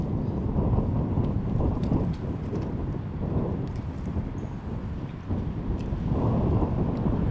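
Strong wind blowing outdoors, a loud continuous low rumbling roar and buffeting that fills the whole stretch with only slight dips in intensity.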